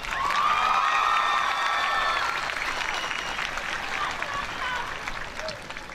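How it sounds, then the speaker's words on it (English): Audience at a school graduation ceremony breaks into loud, sustained applause with scattered cheers, a dense crowd clapping that holds strong and gradually thins toward the end. "give them a round of applause"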